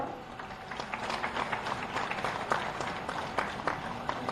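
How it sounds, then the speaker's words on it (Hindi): A crowd at an indoor teachers' award ceremony claps in moderate, steady applause, the scattered hand claps blending into a continuous wash at middling distance, with no speech. "तालियां कम होती हैं तो सूना सा लगने लगता है।"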